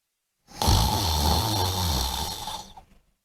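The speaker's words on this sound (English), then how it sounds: "He was snoring loudly." A man snores loudly in a single long, rasping inhale that fades out, heard close and alone.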